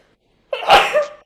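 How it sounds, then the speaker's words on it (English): One sharp, close sneeze, sudden and forceful, then quickly fading to silence. "I'm going to sneeze."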